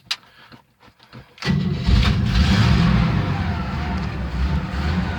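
A 1971 Chevy C10 pickup being started on a weak battery: a few short starter cranks, then the engine catches and runs with a steady, loud rumble.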